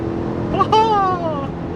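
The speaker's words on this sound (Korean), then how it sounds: "6200cc의 엔진 힘을 끌어 모아서 이렇게 달리니까" A Chevrolet Tahoe High Country Dark Knight Edition SUV with a 6200cc engine accelerates while driving, its engine note climbing steadily in pitch for about a second before easing off, heard from inside the cabin.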